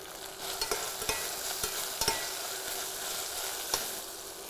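Cashews sizzle steadily in hot oil in a pan for beetroot biryani, a continuous frying hiss broken by a few sharp stirring clicks, close and alone.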